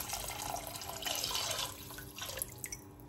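Water pours steadily into a pot of Tuscan soup on the stove, about three and a half cups, a continuous close splashing that shifts and trails off near the end, without talk.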